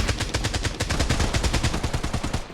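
Rapid automatic gunfire from the mobile battle royale game Blood Strike rattles out in one loud, unbroken burst of evenly spaced shots, close and dense, then cuts off at the end.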